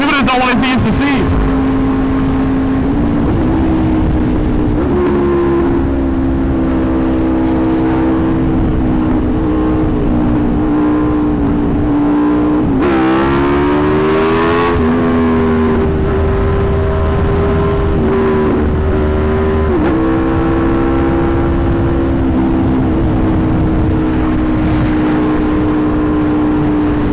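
A 2020 Aprilia RSV4 1100 Factory motorcycle revs loudly and close during wheelie practice, its engine drone climbing and dropping in repeated surges, with someone talking over it at times.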